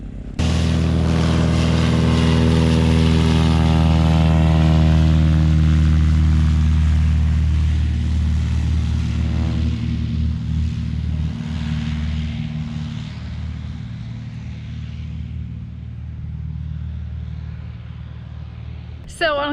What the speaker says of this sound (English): let's watch this guy tow the other plane out here